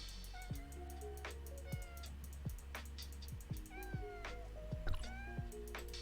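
A cat in the video game Tower of Fantasy meows repeatedly after being hit, a string of short, close, whiny cries spread across the stretch, with light taps between them.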